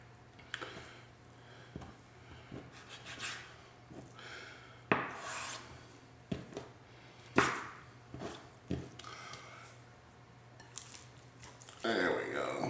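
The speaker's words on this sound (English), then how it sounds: "if you see any extra fat on the thigh, just go ahead and cut that off" A knife trims excess fat from raw chicken thighs on a cutting board, giving soft intermittent scraping and slicing strokes with sharper taps, over a faint steady hum in a home kitchen.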